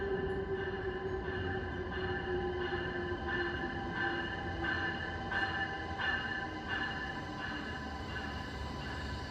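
An Amtrak NextGen Acela train rolls into a station platform, a sustained rail rumble with tonal wheel whine and regular clacking of wheels over rail joints, fairly distant and steady.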